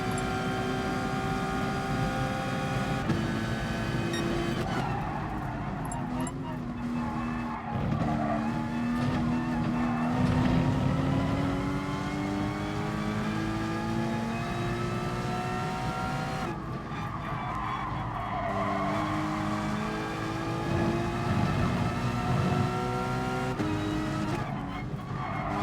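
Race car engine in Gran Turismo Sport on soft tyres, running from the front of the grid: a loud, continuous engine note that climbs steadily through the gears with brief dips at shifts, plus a faint tyre squeal.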